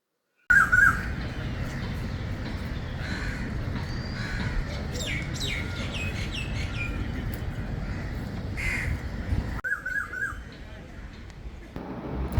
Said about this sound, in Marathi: की छान वेगवेगळ्या पक्ष्यांचा आवाज येतो